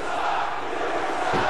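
A wrestling crowd jeers and boos a heel wrestler after a taunt, a dense, sustained wash of voices filling the arena with a brief louder swell near the end.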